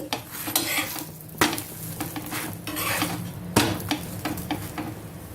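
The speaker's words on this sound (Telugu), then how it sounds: "ఇలా ప్రెస్ చేసామంటే ఆ లోపల ఉన్న కర్రీ అంతా కూడా కొంచెం అలా ఆనియన్స్ అన్నీ కొంచెం బాగా ఫ్రై అవుతాయి" Aloo paratha stuffed with potato and onion curry pressed and fried on a pan, giving a steady sizzle broken by a few sharp scraping and pressing knocks, close and moderately loud with no talk.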